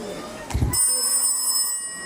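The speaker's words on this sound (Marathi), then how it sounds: "थांब मी फोन करते." A telephone rings during a call placed from a home. A brief muffled knock comes first, then a steady electronic ring tone holds clearly for over a second.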